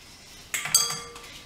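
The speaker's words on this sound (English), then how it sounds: "Runaway spoon." A metal spoon clatters against a mixing bowl during raw chocolate cheesecake preparation, giving two or three quick close clinks in a short burst, with a ringing tail that fades over a quiet room.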